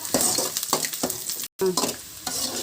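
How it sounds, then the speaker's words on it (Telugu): Sliced onions frying in oil until golden for egg biryani, a steady close sizzle with repeated stirring scrapes in a regular rhythm and one brief break, no talking. "ఇలా ఉల్లిపాయల్ని బాగా గోల్డెన్ కలర్ వచ్చినంత వరకు బాగా వేయించుకోవాలి."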